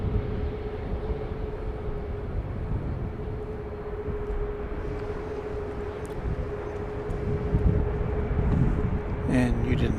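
A Southwest airliner taking off from runway 31 right at Dallas Love Field, heard as a steady low engine roar with a persistent tonal hum, swelling slightly near the end.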